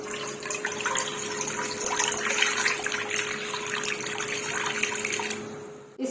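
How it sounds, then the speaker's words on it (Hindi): Two glasses of water are poured into a pan to start a sugar syrup, giving a steady, close splashing trickle that runs evenly for about six seconds before stopping, with no talking. "सबसे पहले हम 2 गिलास पानी डालेंगे इसमें।"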